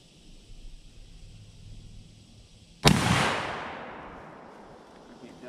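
A single loud gunshot cracks close by outdoors as a woman fires a gun for the first time, its echo trailing off over a couple of seconds after quiet ambient noise.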